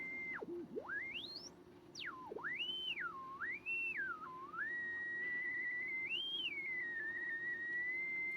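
A thin electronic whistle from an unstable oscillator in a BC455 radio receiver swoops and wobbles in pitch, dipping and rising unsteadily before settling into a wavering tone over faint hiss.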